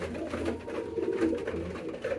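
A king pigeon coos softly and repeatedly up close, a low rolling rhythm in a quiet indoor setting, with no voices present.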